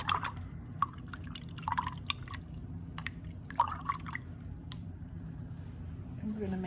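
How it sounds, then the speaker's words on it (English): Paintbrush loaded with green paint swished and rinsed in a water cup during a color wheel painting session, giving soft repeated dripping and sloshing under a steady low background hum. "I'm going to rinse out the brush,"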